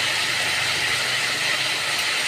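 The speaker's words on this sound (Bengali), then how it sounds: "ছোটো ছোটো কুমড়ো এরমভাবে কেটে কড়াই দিয়েছি" Small pumpkin pieces seasoned with salt and turmeric fry in a wok after a dried red chilli tempering, giving a loud, continuous close sizzle and hiss with no voices.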